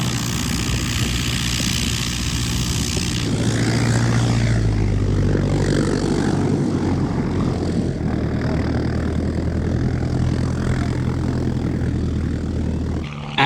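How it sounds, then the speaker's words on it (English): A propeller aircraft idles and runs up its engine at a historic British aviation centre, a steady near drone with low harmonic hum sustained throughout, no voices. "I then heard what sounded like a plane ready to take off in the background"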